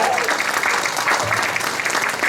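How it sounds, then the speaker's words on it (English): An audience applauds at a campaign kickoff event, with dense, steady clapping filling the room for the whole stretch. "How about a round of applause?"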